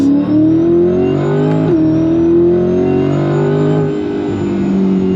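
A supercharged 2024 Corvette Stingray accelerating hard, its loud engine note climbing steadily and smoothly through the revs with one brief dip near the start, close and continuous throughout.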